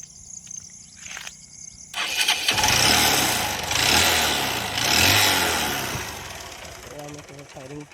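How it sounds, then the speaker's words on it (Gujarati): An old, home-modified Hero motorcycle kicks into life after a quiet start, its engine catching loudly and revving in two or three rising surges before settling toward a rough idle close by. "તો હમણાં ચાલતું તો નથી પણ અમને ચાલુ કરીને મેં બતાવું છું બાઇક કેવો વર્ક કરે છે"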